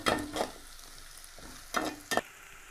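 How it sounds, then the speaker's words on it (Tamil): Garlic and onion are sautéed in a pan, heard as quiet background sizzle punctuated by a few short bursts of stirring and scraping. "இப்போ வெள்ளைப்பூடை போட்டு நம்ம வதக்கிக்கிடுவோம்."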